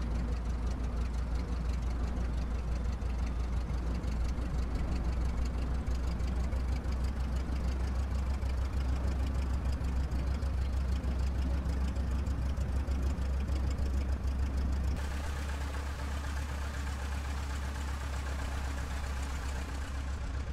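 Bulldog autogyro engine in a flight game, idling steadily as the craft taxis on the ground, a continuous low droning rumble that holds throughout and shifts slightly in tone near the end.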